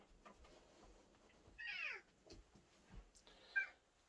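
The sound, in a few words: cat meowing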